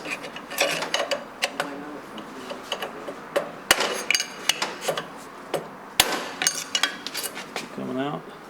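Metal tapping and clinking as a bearing is worked out of a Rolls-Royce Silver Cloud I steering box, sharp irregular knocks and rattles close by, with a few louder hammer-like strikes.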